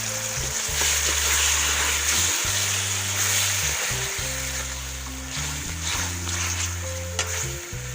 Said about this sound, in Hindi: ये टमाटर का पेस्ट शामिल कर रही हूँ।